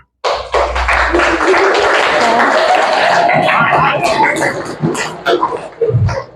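A classroom full of students claps together in sustained, dense applause for several seconds, loud and close, fading toward the end.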